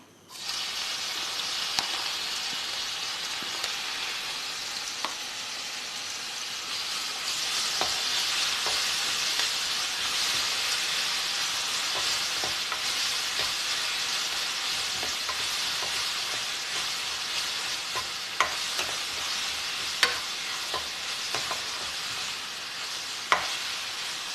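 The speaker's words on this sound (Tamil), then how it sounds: "எண்ணெய் நல்லா காஞ்சதுக்கப்புறமா இந்த இஞ்சி, பூண்டு, பச்சை மிளகாய் விழுதை சேர்த்துக்கலாம்" Ginger, garlic and green chilli paste frying in hot oil makes a continuous, close sizzle with occasional sharp pops and stirring clicks, steady throughout with no talking.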